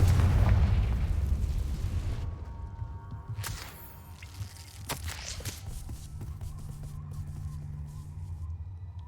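Confringo spell explosion in the Hogwarts Legacy video game: a loud, deep boom opens and rumbles away over a couple of seconds, followed by lighter game sounds and a few sharp cracks.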